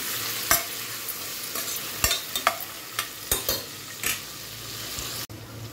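Ingredients fry with salt in a pan, with a steady sizzle under repeated sharp scrapes and clinks of a spoon stirring against the metal, coming at uneven intervals.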